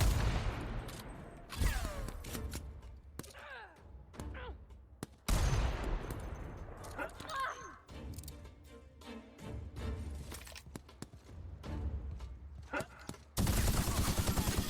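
Sci-fi gunfire in The Outer Worlds: repeated bursts of weapon shots and rapid automatic fire, with loud blasts starting and stopping throughout a chaotic firefight, with a brief voice now and then.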